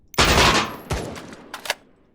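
Full-auto gunfire from an M16A1 rifle in the video game Badlanders, a loud sustained burst up close followed by a few shorter bursts and single shots that trail off, with no talking.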